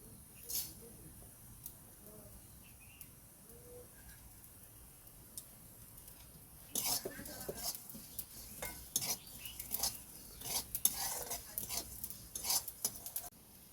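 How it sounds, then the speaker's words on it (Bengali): Dry red chillies, coriander and cumin fry together in a pan for a small-fish curry with taro, quiet scattered clinks at first, then louder spoon-on-pan stirring and scraping over a light sizzle. "শুকনো লঙ্কা ধনে জিরে একসাথে ভেজে নেবো"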